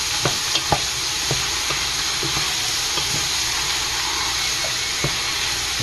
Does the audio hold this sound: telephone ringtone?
no